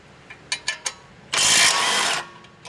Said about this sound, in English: Use an 18mm socket with a 17mm wrench. Remove the strut to knuckle lower bolt.